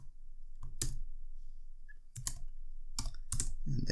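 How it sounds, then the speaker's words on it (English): Keys on a computer keyboard are typed in short bursts of quick, crisp clicks with brief pauses between, close by and without talk. "So we go right here and type table."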